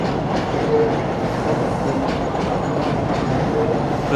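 A New York City A train rumbles past near the Woodhaven Boulevard stop in Ozone Park, Queens, a steady loud roar with faint clickety-clack of wheels on rails throughout.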